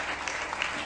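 A church congregation applauds, a short burst of dense clapping at moderate distance.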